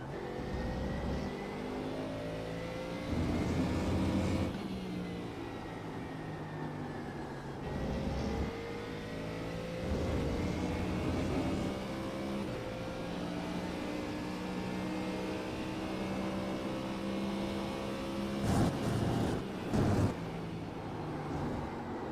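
A simulated Mustang GT3 race car's engine drones steadily in the iRacing game while warming its tires at the Red Bull Ring. It revs up and down through gear changes and brief louder surges, and no one speaks.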